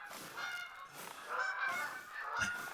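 Geese honk in theHunter: Call of the Wild, a flock calling in overlapping, repeated nasal honks at moderate distance across the whole stretch, with no talking.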